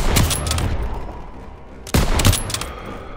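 Gunfire in Call of Duty: WWII during a street fight: a sharp burst of rapid shots rings out, fades into a reverberant tail, then a second close, loud volley follows about two seconds later.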